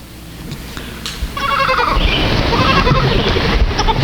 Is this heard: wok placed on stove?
no